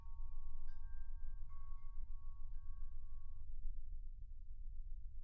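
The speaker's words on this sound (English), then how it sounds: "Oh, I hear bells." Bells ring out inside a church on Spruce Street, several clear tonal strikes with sustained ringing over a steady low rumble, then the ringing stops abruptly and only the background hum remains.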